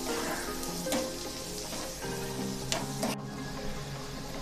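Chopped carrot, cabbage and beans stir-frying over a full gas flame give a steady close sizzle and crackle with occasional stirring scrapes, and no one talks.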